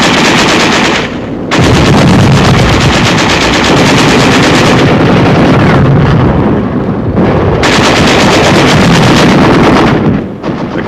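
Sustained machine gun fire rattles almost continuously in WWII combat near the Rhine in 1945, loud and close, with occasional artillery shells mixed in and a few brief gaps.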